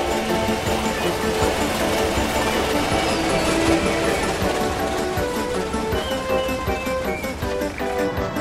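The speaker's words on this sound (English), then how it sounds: "There's a railway train passing by." A train rumbles past steadily and loudly, with a rhythmic clatter of wheels on rails filling the whole stretch, no talking.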